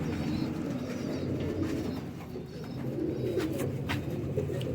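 High Flyer pigeons coo in low, throaty, repeated phrases at close range, several birds layered into a steady rolling murmur with faint rustling and no talk.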